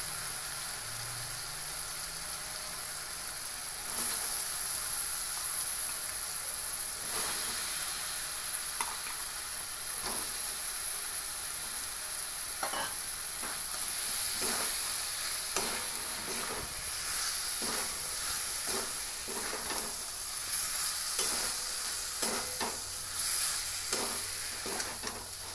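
Boiled potatoes and soybean chunks fry in oil-released masala, a steady soft sizzle with scattered stirring scrapes and clicks from the pan throughout, no voices.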